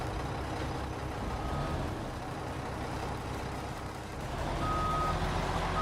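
A truck backs up with steady, loud reversing beeps over a constant diesel engine rumble, the beeps repeating at regular intervals and growing stronger toward the end.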